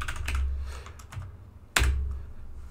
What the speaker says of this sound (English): so I can just type HTML.